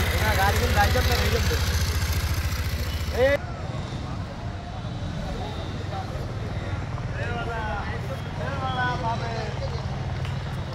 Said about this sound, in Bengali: মোটরসাইকেল, অটো, মোটরসাইকেল, অটো আসছে এবং আসবে এবং আসতেছে